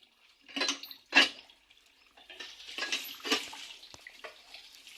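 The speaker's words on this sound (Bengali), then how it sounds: "শাকগুলো ভালো করে ধুয়ে পরিষ্কার করে নিতেছি" Leafy greens being washed by hand in water in a home kitchen, with soft splashes, drips and the light clatter of a bowl, close and fairly quiet, coming in irregular bursts.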